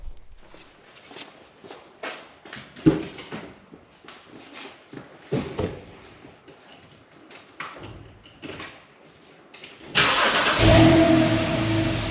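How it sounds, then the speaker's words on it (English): A Porsche 997.2 Carrera S sits at rest while a few scattered footsteps and door or handling knocks sound nearby, then its flat-six fires up loudly, close by. "I'm now going to take it for a drive"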